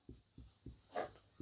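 Pen or chalk strokes on a board during a maths lesson, a quick run of short scratchy taps and squeaks in an even rhythm, close and fairly clear with no talk over them.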